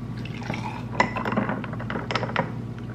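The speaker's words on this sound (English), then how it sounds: "The glorious pour shot is really where it's at." A macadamia milk matcha latte is poured into a glass with a close, steady liquid trickle, light clinks of glass and utensils showing through.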